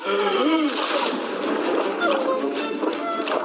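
Water gushes and splashes out after being opened, a loud, dense, continuous splatter close by, with voices talking over it.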